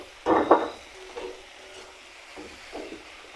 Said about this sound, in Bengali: টমেটোগুলোকে আমি ভেজে নিচ্ছি এইভাবে।